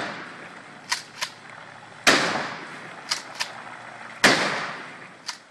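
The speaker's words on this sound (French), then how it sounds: "Il existe de nombreuses façons de vider une piscine, mais rien ne vaut une bonne vieille fusillade." Gunshots fired at a swimming pool to drain it ring out in sharp bursts: several lighter cracks and two loud, booming reports with lingering decay, spaced irregularly outdoors.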